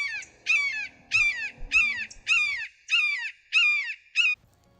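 A red-shouldered hawk in Santa Cruz calling repeatedly, eight loud, clear, descending screams in an even rhythm, each separated by a short pause.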